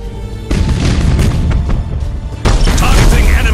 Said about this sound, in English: Broadside macro cannons ready to fire on your order